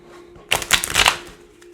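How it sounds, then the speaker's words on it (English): Tarot cards are shuffled in a quick close-up burst of rapid riffling and flapping lasting about half a second, over a faint steady hum. "I'm looking at the cards while I'm shuffling."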